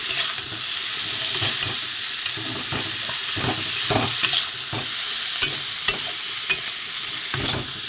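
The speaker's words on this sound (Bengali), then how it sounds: "মশলাটা একটু কষিয়ে নিই।" Spice masala frying in a pan for a vegetable chorchori, with a constant hissing sizzle and frequent scraping taps as a spoon stirs it.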